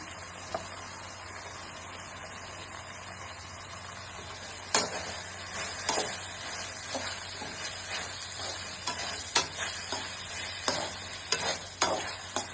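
Chopped three-colour capsicum and red chilli stir-frying in hot oil for baby corn mushroom Manchurian, a continuous close sizzle with sharper spatula scrapes and clacks growing more frequent in the second half, no voices.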